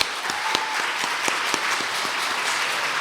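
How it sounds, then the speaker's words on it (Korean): A church congregation applauds with dense, steady clapping that runs the full few seconds, loud and close, with no talk over it. "박수 한번 쳐드리겠습니다."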